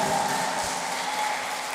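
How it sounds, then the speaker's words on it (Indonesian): Audience applause fills a church youth Christmas service, a steady dense wash of clapping that holds at an even, fairly loud level throughout with no voices over it. "Tepuk tangan sekali lagi untukmu."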